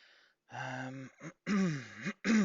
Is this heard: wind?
no